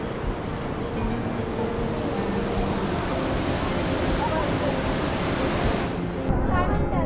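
Water rushing over rocks at Randha waterfall near Bhandardara, a dense, steady roar filling the scene without letup, fairly near and constant.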